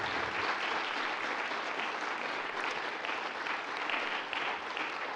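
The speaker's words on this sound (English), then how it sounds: "A round of applause for them." Sustained applause from a theater audience, an even, dense roar of many hands clapping at moderate volume, steady from start to finish.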